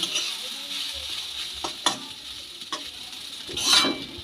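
Semolina upma being stirred in a pan just after water is added, with scraping stir strokes over a steady sizzle and a louder burst of bubbling near the end, close and without talk.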